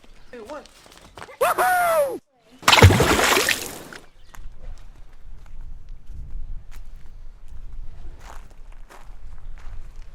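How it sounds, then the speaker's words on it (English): Someone leaps into the sea at a small swimming spot on Hvar Island, Croatia, landing with one loud, broad splash, followed by gentle water sloshing and a faint voice or two nearby. "Eva's gonna jump in."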